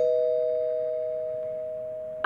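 A single sustained electronic doorbell tone rings loud and clear, slowly fading over two seconds before a brief knock-like click at the end.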